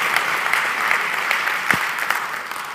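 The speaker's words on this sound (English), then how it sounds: "A round of applause for our excellent, excellent speakers." An audience at a conference closing session applauds the speakers. The clapping is steady and dense, with sharp individual claps standing out.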